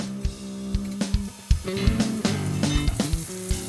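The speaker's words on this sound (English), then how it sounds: "we're going to put our bacon bits into a frying pan, and we're going to start frying them up" Pieces of bacon frying in a pan, a busy crackling sizzle punctuated by sharp pops and utensil knocks, close and fairly loud.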